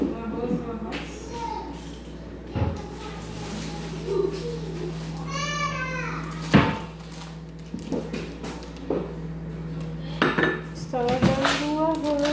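Dishes and cutlery clatter in irregular bursts as a plate is taken out in a home kitchen where rice is being washed, while a cat meows in between and people talk nearby.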